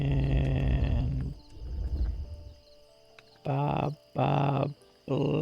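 Sheep bleating in the video game Paper Trail: a few short, nasal bleats in a row, fairly close and clear, following a brief stretch of other game sound.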